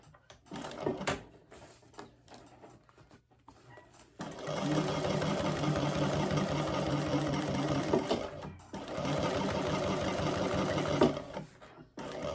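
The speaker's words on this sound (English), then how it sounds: "I'm going to increase the stitch on that because it's quite thick there. And we're going to top stitch there." A sewing machine top-stitches through a thick bag seam, with two long, steady runs of rapid needle chatter separated by brief pauses and a few lighter handling clicks.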